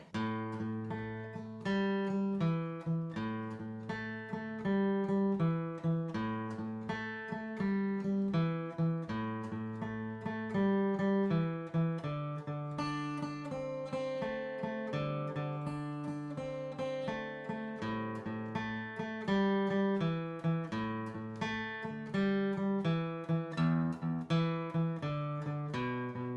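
Guitar plays a steady, loping 12-bar blues boogie-woogie bass pattern in A with a shuffling rhythm, continuous and clear with no talking.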